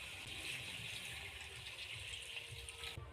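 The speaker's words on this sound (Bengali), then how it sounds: "এবার জল দিয়ে আমি সেদ্ধ করতে দেব।" Water poured into a pan of lightly fried moringa drumsticks and potatoes, a quiet steady rushing splash that runs for about three seconds before cutting off, with no speech.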